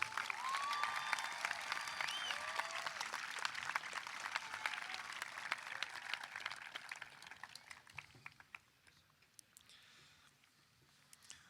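A commencement audience at Tabor College applauds graduates with broad, fairly distant clapping and a few whoops, fading gradually into sparse individual claps by the end.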